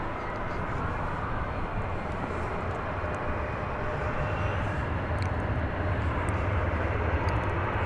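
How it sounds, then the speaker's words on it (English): A Spirit Airlines airplane at DFW Airport roars past with a broad, steady jet rush at constant loudness and no speech over it. "Here comes a Spirit plane from, I want to say, Phoenix, Arizona."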